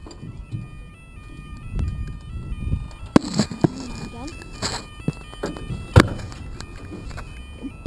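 Level crossing alarm at Pencoed station near Bridgend: a steady, thin electronic warning tone sounds in the background, interrupted by a couple of sharp bangs, with people talking nearby.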